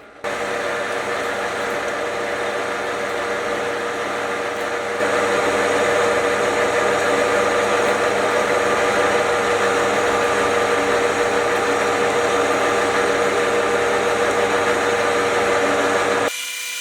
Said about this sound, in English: because I'm using a brass bushing, I do need to run the lathe a bit slower than I normally would